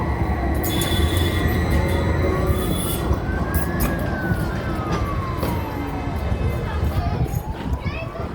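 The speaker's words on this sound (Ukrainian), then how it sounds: "трамваї новенькі їздять" New trams rolling across Old Sinna Square in Odesa, a loud continuous rumble of wheels on rails with long rising and falling squeals, heard nearby in an outdoor city setting.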